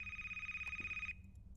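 A telephone rings in the video game A Place, Forbidden, a steady pulsing electronic tone that sounds alone, quiet, then cuts off after about a second.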